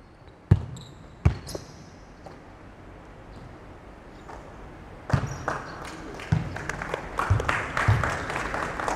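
A small group claps briefly during a basketball practice session, the scattered applause mixing with ball bounces and gym noise, with faint talk in the background.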